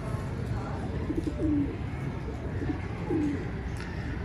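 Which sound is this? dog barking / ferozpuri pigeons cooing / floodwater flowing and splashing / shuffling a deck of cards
ferozpuri pigeons cooing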